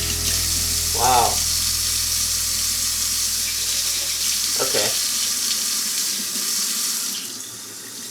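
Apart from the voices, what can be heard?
kitchen faucet running water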